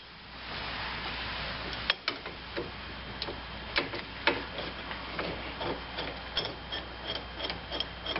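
Spring compressors being cranked down on a strut coil from a 1996-2002 Caravan, a steady run of faint, close ratcheting clicks and ticks over a low background hum.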